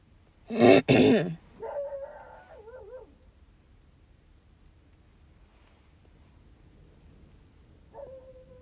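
A dog gives a couple of loud close barks, followed by whiny, wavering yips and whimpers, then a quiet stretch and one short whine.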